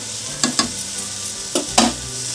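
Spoon stirring a ridge gourd curry after water is added, a soft steady simmering hiss with a few sharp scraping clacks against the pan, close up.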